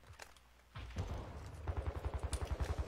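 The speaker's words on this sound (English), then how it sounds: "Hostile mortar striking enemy." A hostile mortar strike in Call of Duty, first a few scattered bangs, then a rapid, evenly spaced burst of heavy thumping blasts rolling on continuously, fairly faint and alone.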